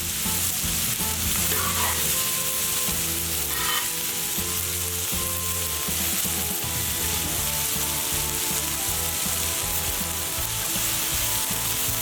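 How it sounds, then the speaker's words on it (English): Thick smash burgers and sweet onions searing on a hot griddle, producing a constant loud crackling sizzle with occasional scrapes, layered over a steady background hum and tonal rumble, no speech. "So these have been searing away here probably for 2 minutes."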